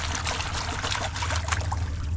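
Water and gravel stirred in a gold pan, a continuous close swishing and trickling wash with gritty rattles from the stones and a low rumble underneath.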